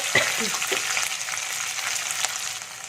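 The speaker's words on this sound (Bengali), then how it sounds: "দিয়ে এটাকে ভালো করে নেড়ে নেব। এটা হালকা করে ভেজে নেব।" Ginger garlic paste frying lightly in hot oil gives a steady close sizzle, with a few soft stirring scrapes near the start and no voices.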